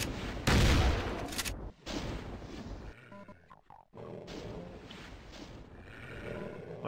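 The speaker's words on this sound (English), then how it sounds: "Why are we settling for these beta shotgun shots when you have the submachine guns?" Shotgun blasts and monster roars from the game Doom 2, a loud booming shot followed by rumbling growls and further bursts of gunfire, with a brief quiet gap in the middle.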